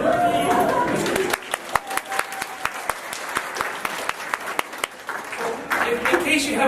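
Warm audience applause at a talk in Manitoba welcoming a speaker, crowd clapping with sharp individual claps standing out and chatter mixed in, building and carrying on for several seconds.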